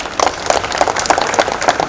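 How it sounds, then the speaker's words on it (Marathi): A crowd at a political rally in Kurla applauds to welcome the candidate Ujjwal Nikam, with brief rhythmic clapping at fairly close range over a busy background of voices. "जोरदार टाळ्या वाजवून"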